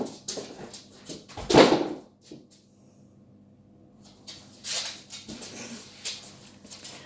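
A dog gives a sudden loud bark at close range indoors, followed by quieter household shuffling and faint background noise.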